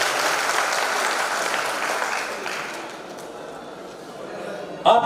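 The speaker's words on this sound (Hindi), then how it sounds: "तालियां बजाओ मेरे यार।" An audience at a radio listeners' conference applauds, a dense wash of clapping that slowly thins and fades, with a sharp knock near the end.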